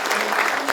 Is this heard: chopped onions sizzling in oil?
no